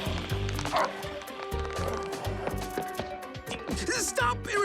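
Cartoon dogs bark in an animated robot rescue series, a string of short yaps and woofs repeating over a busy music and effects bed, with character voices talking around them.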